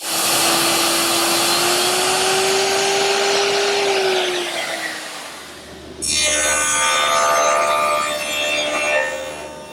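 A woodworking router milling a dado into the bottom rail of a panel for a Mission style desk gives a loud, steady whine and rushing noise with a pitch that drifts. It briefly dips, then roars back up and holds for the rest of the stretch.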